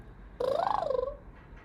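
A pet cat gives a single drawn-out meow with a rising and falling pitch and a slight pulsing rattle, close by and clear against a quiet room, then falls silent.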